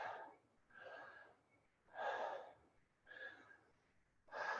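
Deep, slow breathing during a yoga breath cycle, with about four long, close, airy inhales and exhales evenly spaced and nothing else heard.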